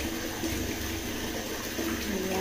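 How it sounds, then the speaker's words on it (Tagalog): Tap water running steadily into a container to store it for bathing, a continuous close splashing rush with no break and no talk over it. "Ayan, nag-stack ako ng tubig guys."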